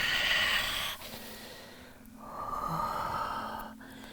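Slow yoga breaths during a flowing forward-and-back movement: a long, airy exhale, a short pause, then another steady drawn-out breath, close and clear with no talking.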